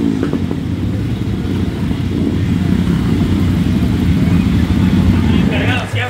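Motorcycles, including a Suzuki, roll in as the last riders reach a motorcycle meet in El Salvador, a loud, continuous engine drone with rising revs up close, with voices in the background.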